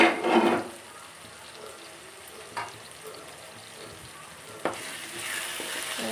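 Tomatoes and broad beans cook under a lid in a pan, giving a steady low sizzle and bubbling with a few brief clinks or stirs near the start and middle.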